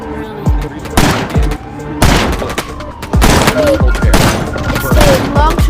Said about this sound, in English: Now, going with the shotgun.